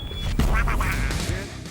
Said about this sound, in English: like this super duck who was about to be